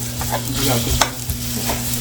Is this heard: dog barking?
no